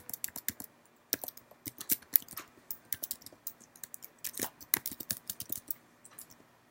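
Fingers type a web address on a computer keyboard, a quick irregular run of close, light key clicks in a quiet room.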